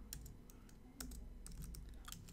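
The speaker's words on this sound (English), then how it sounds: "we're going to type in a couple of keywords here" Keywords being typed on a computer keyboard: a quiet, close patter of individual key clicks in an irregular rhythm, with no talking.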